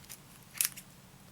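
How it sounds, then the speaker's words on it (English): Scissors snip through the wrapping on a small beauty product package, a few quiet crisp cuts with one sharper snip near the middle, close and brief. "Grab some scissors."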